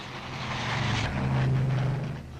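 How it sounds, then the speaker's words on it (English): Propeller transport planes of the 1949 Berlin Airlift, military and civil types, give a loud, steady droning roar that swells slightly as they fly over, with no voices. "Hundreds of planes of all types and sizes, military and civil, were pressed into service."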